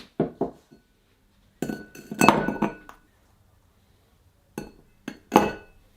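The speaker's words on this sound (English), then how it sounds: "add 2 large ice cubes to a rocks glass" Large ice cubes drop and clink into a rocks glass in several sharp, bright bursts with pauses between, close and clear, with no voices.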